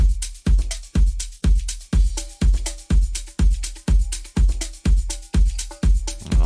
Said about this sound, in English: we introduce a tambourine shaker type thing and also this sort of other